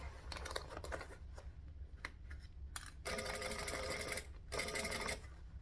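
Domestic sewing machine stitching around the edge of a garment, short bursts of rapid needle clatter broken by pauses, then two longer runs, close and alone.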